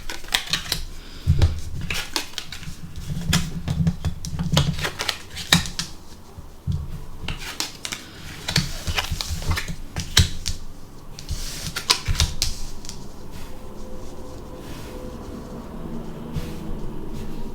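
Tarot cards handled and laid out on a table: a run of sharp, crisp taps and flicks, close and irregular, then quieter shuffling.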